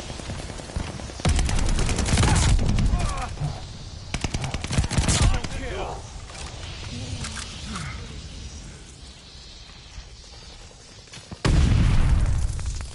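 Bursts of automatic gunfire and explosions erupt around a hardpoint during a PS4 multiplayer shooter match, loud and close in heavy clusters near the start and again at the end, with quieter combat noise in between.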